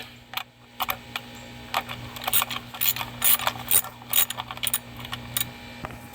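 Ratchet clicking in bursts as bolts are tightened down on a 2014-2016 Kia Soul during transmission replacement work, crisp rapid pawl ticks close up, with pauses between strokes.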